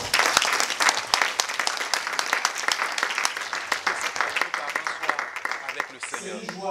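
A church congregation breaks into sustained, dense applause that holds steady throughout and thins near the end as a voice and a brief tone come in.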